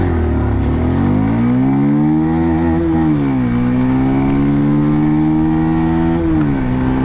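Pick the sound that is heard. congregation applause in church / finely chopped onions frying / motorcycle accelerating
motorcycle accelerating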